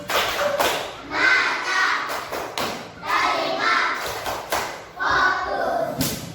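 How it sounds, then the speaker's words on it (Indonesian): A class of schoolchildren performs a rhythmic clapping chant, with crisp claps and thumps falling in sets between their chanted words, loud and close, repeating in short patterned phrases. "Tepuk fokus."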